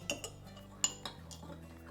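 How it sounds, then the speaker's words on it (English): A salt and vinegar mixture being stirred with a metal spoon in a dish, a few light clinks and scrapes spread across the moment, quiet and close, with no talking. "We're going to stir it up so that the salt and the vinegar are mixed together."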